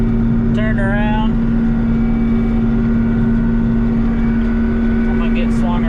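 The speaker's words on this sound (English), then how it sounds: "Andrew's getting the trailer turned around." Truck engine droning steadily while a farm trailer is swung around in a field, with a brief high whine or squeal near the start and faint noise at the end.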